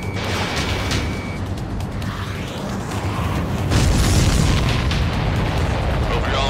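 Explosions boom in the aerial combat video game Ace Combat 7, a dense barrage of blasts and bursts layered over a constant roar, growing heavier midway through.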